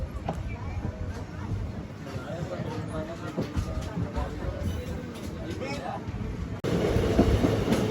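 A Vijayawada–Guntur–Macherla passenger train rolls along with a steady rumble and wheel clatter heard from inside a carriage, growing louder near the end, with a babble of passenger voices underneath.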